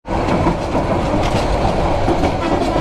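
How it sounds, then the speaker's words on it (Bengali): Upakul Express passenger train rolling over a double-line rail crossing, a loud, close, continuous rumble of wheels with rhythmic clickety-clack across the joints and no voices. "ডাবল লাইন ক্রসিংটাকে একটু উপভোগ করি।"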